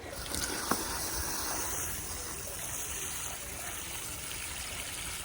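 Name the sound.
watering plants, water pouring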